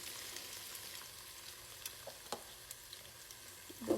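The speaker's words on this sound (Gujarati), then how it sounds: "હવે હું અંદર આ ડુંગળી ઉમેરી દઈશ" Chopped onion goes into hot oil already holding cumin, mustard seeds, crushed ginger, garlic and asafoetida, giving a quiet, steady frying sizzle with a few soft stirring clicks and no speech.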